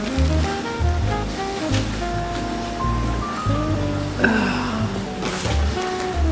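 Storm floodwater rushes steadily in a broad, continuous wash with low rumbling surges, fairly near and moderately loud.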